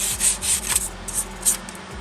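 Rust is scrubbed off metal with a scrub pad in quick, close, rhythmic back-and-forth rubbing strokes, roughly six abrasive swipes in two seconds.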